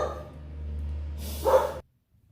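A dog barks once or twice indoors during a home maths lesson, a short close burst over low room hum, ending abruptly in silence.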